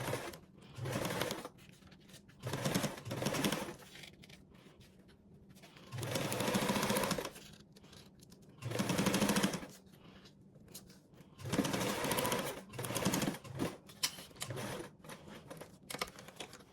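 A sewing machine top stitches in several separate bursts of rapid mechanical whirring, each lasting a second or two with short quiet pauses between, close up and without talk.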